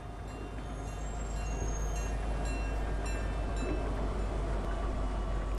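Moving train in a video game: a continuous low rumble with rattling, clattering rail noise, building slightly then holding steady and fairly loud throughout, with no talk.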